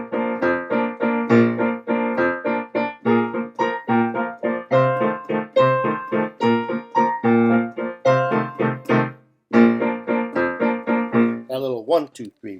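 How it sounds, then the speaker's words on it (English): A short musical passage in triple meter, a bright pitched instrument playing a steady one-two-three pulse of clear notes, loud and alone with no talk. "Something in a triple meter might sound like this."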